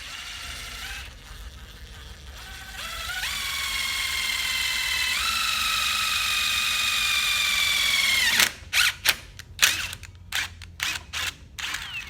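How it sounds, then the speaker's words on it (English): A drill's steady motor whine rises in pitch for several seconds while drilling a pilot hole, then breaks into a series of short stop-start bursts as the drill bites and pauses. "I'm going to try to use that to make my pilot hole"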